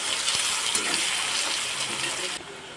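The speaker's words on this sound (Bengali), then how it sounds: "পেঁয়াজ কুচিটাকে একটু লাল লাল করে ভেজে নেব।" Chopped onion fries in hot oil with a bright, steady sizzle while a cooking fish curry comes together, the hiss loud and continuous before cutting off abruptly near the end.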